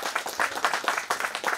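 Audience applause for a singer at a song launch event, a brief burst of many hands clapping in quick, dense bursts, loud and close with no talk over it.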